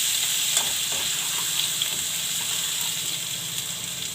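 Chili powder and turmeric stirred into hot oil while cooking rajma, giving a steady close sizzle and frying hiss with faint spoon scrapes throughout, no talking.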